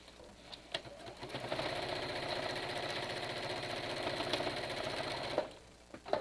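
A sewing machine stitches the seam of a cloth face mask, running in one continuous, fairly quiet whir with a fast mechanical patter for about five seconds before it stops.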